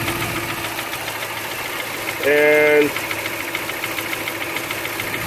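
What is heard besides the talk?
rod knock inside a hydrolocked car engine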